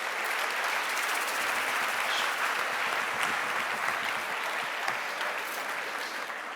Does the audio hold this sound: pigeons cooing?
no